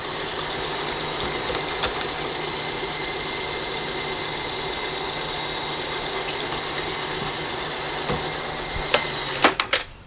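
A drill runs at about 660 RPM without coolant, boring a hole in a metal part for a roller kit build, giving a steady mechanical whir with faint ticks, and a few sharp clunks near the end.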